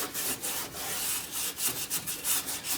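Metal panel edges on an MGB GT wheel arch being roughed up by hand before priming, a rhythmic back-and-forth scraping rub of roughly a dozen close strokes.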